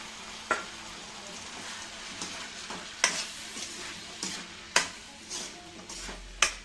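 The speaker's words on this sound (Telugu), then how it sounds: "వేసుకొని మంచిగా అంతా కలిసేటట్టు కలుపుకుందాం" Sabudana khichdi being stirred in a pan, a steady soft sizzle and scraping with a few sharper knocks of the spoon against the pan spaced through the clip, close by with no talk.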